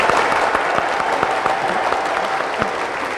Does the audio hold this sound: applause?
yes